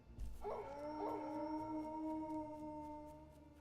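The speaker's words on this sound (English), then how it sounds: "Well, hello there, doggy." A dog in a survival video game gives two rising yelps that turn into one long, sustained howl, close and clear and fading slowly at the end.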